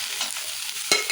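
Soy chunks (meal maker) fry in oil in a pan, a soft steady sizzle with stirring and a brief clatter near the end.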